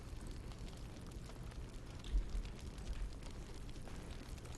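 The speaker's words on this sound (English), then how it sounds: "we can hear the fire crackling" A fire crackles steadily inside the Last Light Inn in Baldur's Gate 3, a dense bed of low rumbling with scattered pops, a couple of slightly stronger bursts partway through, and no voices.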